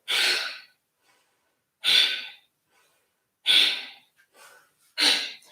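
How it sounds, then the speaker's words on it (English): Four sharp, forceful nasal exhalations of Kapalabhati pulsing breath in a yoga session, evenly spaced about a second and a half apart, loud and close, with silence between them. "think of tucking in almost underneath the rib cage and give me a little pulsing breath"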